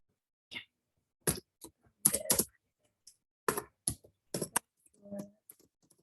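Keystrokes on a computer keyboard while working in Microsoft Excel, coming as scattered short clusters of clicks separated by pauses, close and fairly quiet.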